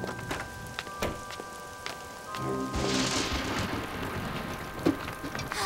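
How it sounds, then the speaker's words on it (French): Rain patters steadily on a surface with scattered louder drops, joined by a soft wash of heavier rainfall midway, close and constant. "Oh, j'aime pas du tout la pluie."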